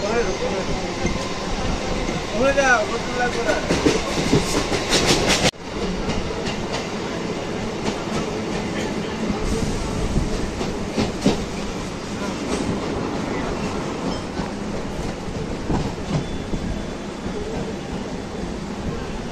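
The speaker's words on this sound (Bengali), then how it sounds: "আমাদের ট্রেন ছেড়ে দিল বিধাননগর রোড থেকে।" A Kolkata suburban local train runs from Bidhannagar Road toward Dum Dum Junction, its steady onboard rumble and rhythmic wheel clatter filling the carriage, with a sharp jolt partway through and passenger voices murmuring underneath.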